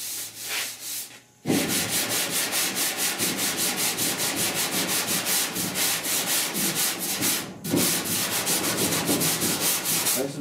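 Sanding block rubbing body filler on the rear cab panel of a 1966 Ford F100, steady rhythmic back-and-forth strokes, loud and close, broken by two brief pauses and heard alone without talking.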